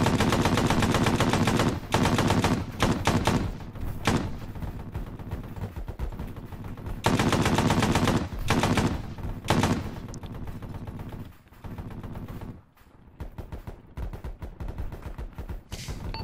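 Heavy gunfire erupts during a convoy ambush in the military game Arma 3, with loud sustained machine-gun bursts and rapid volleys broken by brief pauses.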